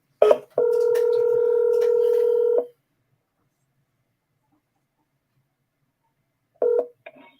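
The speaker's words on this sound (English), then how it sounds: "Let me give her that double dial real quick." A telephone dials a number with a short burst of dial tones, then a long, loud, steady tone of about two seconds, silence, and a final short tone.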